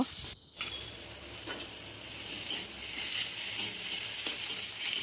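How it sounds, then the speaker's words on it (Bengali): Chopped onions frying in oil with bay leaf and whole spices, giving a steady close sizzle and hiss with occasional stirring clinks and scrapes, no voices. "পেঁয়াজ কুচিকে ভালো করে লাল লাল করে ভেজে নেব"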